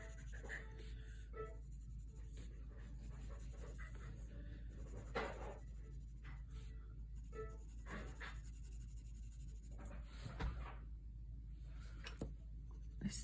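A soft 6B graphite pencil shades across paper, giving faint, continuous scratchy strokes in irregular bursts over a low steady hum, with quiet breathing-like sounds between them.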